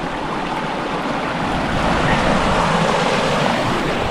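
The Guadalevín river, swollen after heavy rain in the Sierra de las Nieves, rushes in a loud, constant broadband roar of flowing water, slightly swelling midway, with no voices.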